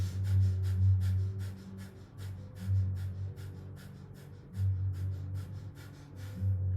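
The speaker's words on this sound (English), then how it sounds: "you can close the mouth and inhale and exhale through the nose" Yoga breathing in and out through the nose, a rhythmic series of sharp, quick sniffing breaths repeating steadily and close, with no talking.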